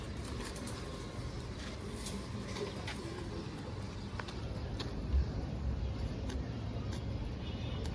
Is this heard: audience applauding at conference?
no